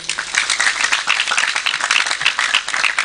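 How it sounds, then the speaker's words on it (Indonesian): An audience at a religious sermon event at SMAN 1 Serang Baru high school claps in quick, bright bursts, a lively uneven patter filling the short stretch. "Tepuk tangan dulu untuk beliau."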